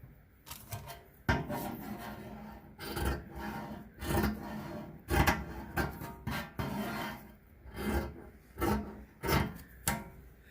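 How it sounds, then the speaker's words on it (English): Scissors trimming around the edges of cardstock in a crafting project: a series of close, crisp snipping and rubbing cuts in an irregular rhythm, with no voices. "I'm just trimming all around the edges of the cardstock"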